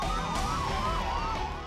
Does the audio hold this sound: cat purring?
no